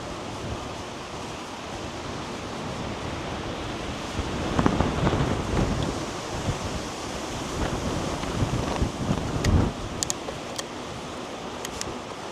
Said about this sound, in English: I didn't even realize it was actually this windy.